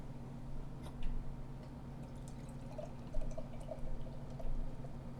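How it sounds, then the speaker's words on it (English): Navigation Brewing Double Brown Ale is poured into a glass, a soft steady liquid trickle with faint fizzing and a few small splashes over a low background hum. "So, let's go ahead and pour this up"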